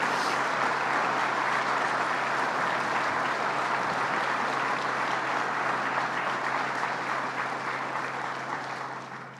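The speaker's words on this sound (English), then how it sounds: "Let's give them a round of applause." Sustained audience applause at a New York State press event about an Alcoa plant in Massena, a dense even roar of clapping that tapers off toward the end.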